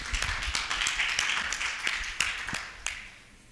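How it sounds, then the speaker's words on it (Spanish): Applause for a speaker at a forum on gender and the right to the city, a dense patter of many hands clapping steadily, then tapering off near the end. "Natalia, un aplauso también para ella"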